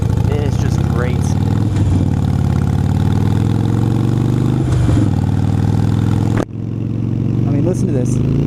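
A Harley-Davidson Sportster motorcycle fitted with Vance & Hines exhaust pipes idles with a loud, deep, continuous rumble close by, while someone talks over it.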